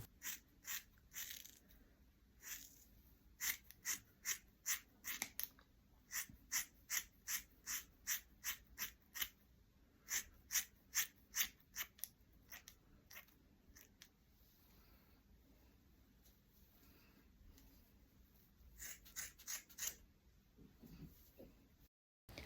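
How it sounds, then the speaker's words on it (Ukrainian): Quiet, crisp scissor snips cutting curly braided afro hair extensions repeat in a quick, steady rhythm, then stop and leave near silence before a few faint sounds at the end. "далі зрізаємо самі кудрі"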